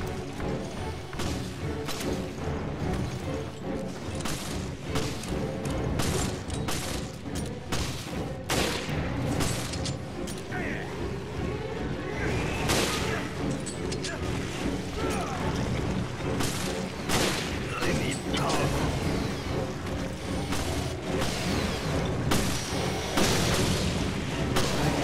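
Gunfire and heavy booms from the Resident Evil Revelations video game: dense, repeated sharp shots and blasts sound continuously at moderate loudness, with faint talk barely present.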